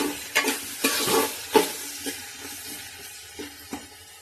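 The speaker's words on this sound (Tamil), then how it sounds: "நல்லா வெங்காயம் வதங்கணும், பொன்னிறமாக ஆகணும்" Onions with rock salt sauté in a pan, a quiet sizzle under a handful of spaced stirring scrapes and taps from a spoon, close by and fairly soft.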